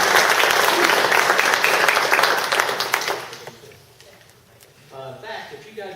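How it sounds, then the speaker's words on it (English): Audience applause at a general meeting fills the room loudly for about three seconds, then fades to scattered claps as a speaker's voice returns. "Give those guys a round of applause."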